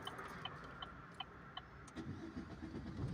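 A car engine cranks and turns over after being started with the clutch and brake pressed, a sharp whir of the starter followed by the engine catching and settling into a low idle, fairly quiet and without talk.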